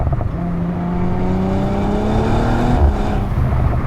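Audi RS4 B9 from 2023 launching hard from a standstill, its engine rising steadily in pitch as it pulls through the gears, loud and close throughout with a brief shift near the end.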